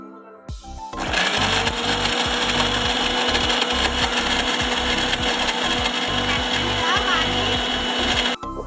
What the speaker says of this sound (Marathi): गूळ आणि पिठाचं मिश्रण मिक्सरमध्ये वाटून